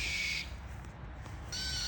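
A small solar-powered garden animal repeller sounds steady high electronic tones, one tone cutting out briefly then resuming with a shifted pitch, loud and near over a low background rumble.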